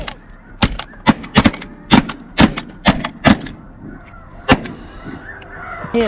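Gunfire erupts during a waterfowl hunt: a rapid volley of a dozen or so loud, close shots, then sparser blasts. Faint bird calls and shouting drift in underneath near the end.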